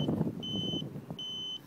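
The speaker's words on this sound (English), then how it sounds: "There we go, the alarm is on, the little pager." A SPY 5000M pager alarm on a 2009 Kawasaki Ninja 250R motorcycle gives two steady, high electronic beeps, each under half a second, one after the other, over low background noise.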